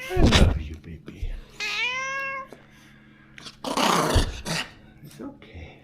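Pet cat Oliver gives a drawn-out, wavering meow amid bursts of louder household noise and thumps, close and fairly loud, with brief low growly sounds mixed in.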